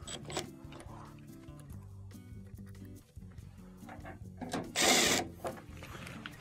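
Close mechanical clicking from a ratcheting screwdriver as plastic-specific screws are driven back in, with rapid ratchet ticks in short bursts and a louder burst near the end.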